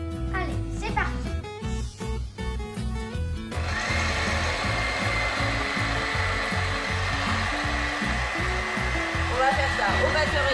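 An electric hand mixer beats three eggs with sugar until foamy, starting after a few seconds of music with a steady, loud, continuous whirring that runs to the end, music still playing underneath.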